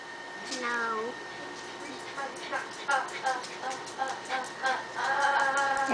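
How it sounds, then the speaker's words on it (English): A kitten gives several high, thin meows in a home, repeated over a few seconds amid people talking nearby. "And here comes the kitten."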